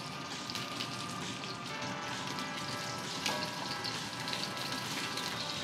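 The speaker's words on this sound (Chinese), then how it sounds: "用呢个中火咧系咁慢慢慢火煎，煎到啲皮咧金黄色" Duck leg fries skin-side down in a pan over medium heat, producing a continuous even sizzle and crackle, close and moderately loud, with no voices.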